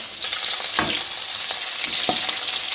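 Onions frying for a green masala, a continuous close hiss and sizzle in a hot pan with a few soft scraping stirs, loud and steady throughout without any talk.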